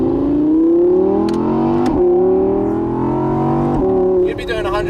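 A 2018 Audi R8 RWS engine pulls away from a junction, loud and close, its tone climbing steadily through two quick gear changes as the revs build, with a brief burst of higher tyre or wind noise near the end.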